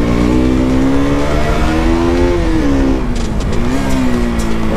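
A KTM RC 200 BS6 motorcycle engine at full throttle on an open road, a loud, continuous, close drone whose pitch climbs and dips with shifts, and a faint rush of wind under it.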